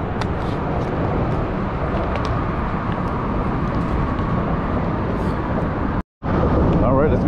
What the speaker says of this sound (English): I'm by the traffic, so I'm sorry for you guys had to hear that traffic